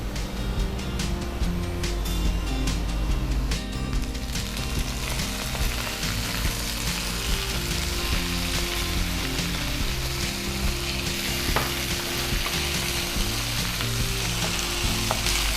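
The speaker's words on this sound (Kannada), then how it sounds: "ಈಗ ಆನಿಯನ್ ಫ್ರೈ ಆಗಿದೆ, ಬದನೆಕಾಯಿ ಹಾಕೊಳ್ಳೋಣ." Eggplant and onions frying in a hot pan give a dense, steady, close sizzle that runs without a break, with faint stirring scrapes mixed in.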